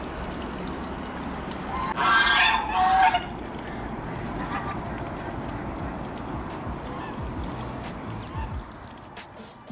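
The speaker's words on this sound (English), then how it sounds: "I want geese so much, but they're so loud." Geese honking close by in a rural farmyard, two loud bursts of calls in quick succession followed by fainter honks, over a steady background of outdoor ambience.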